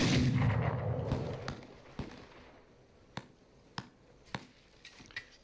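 Gunshots from a repeater rifle in the video game This Land Is My Land ring out as a series of sharp, distant cracks spaced about a second apart, following a fading rumble.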